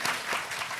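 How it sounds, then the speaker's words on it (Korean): Audience applause at a live Korean podcast recording event, a steady burst of clapping from a crowd, fairly close and continuous without talk. "최성진 기자에게도 박수 한번 보내주세요."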